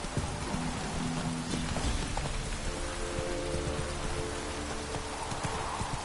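Rain in The Witcher 3 video game, steady and dense on surfaces, with a horse's hooves clip-clopping underneath and a faint low rumble, no voices.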